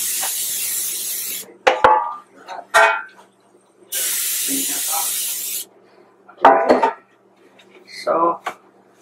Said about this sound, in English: now I'm going to spray my pan so it won't stick